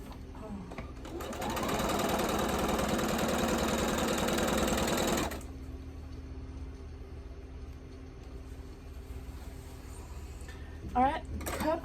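A sewing machine runs steadily for a few seconds, stitching Shoofly Star quilt pieces, then stops, leaving a quiet room with faint handling sounds toward the end.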